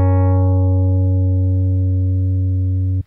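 A steady, sustained waveguide oscillator tone from Sugar Bytes Factory synthesizer, with a low fundamental and bright upper harmonics that fade quickly, holding evenly for about three seconds before cutting off.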